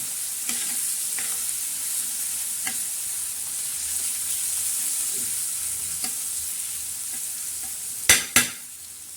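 Spiced soybean mix with turmeric frying in a pan, a steady broadband sizzle throughout with a few soft stirring scrapes and two sharp metallic clinks near the end; no talking.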